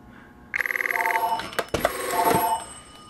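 A Rauland Borg TC4333 staff phone rings in a rapid trilling burst, followed by clunks and handling noises that overlap a second, fainter ring.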